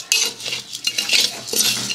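A spoon scrapes and stirs a henna and coffee powder mixture in a pan, a few close, loud scraping strokes with no one speaking.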